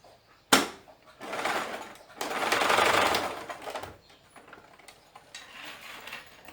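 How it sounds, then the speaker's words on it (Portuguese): A sewing machine stitching the seam of a bow-style sleeve, with a sharp mechanical start followed by two sustained whirring runs of rapid needle strokes and short pauses between them, close up with no talking. "Então, agora eu venho e costuro aqui novamente."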